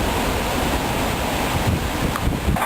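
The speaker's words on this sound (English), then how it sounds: "Windy, man." Strong wind roars and buffets the microphone steadily during a severe thunderstorm, with gusty rumbles and no speech.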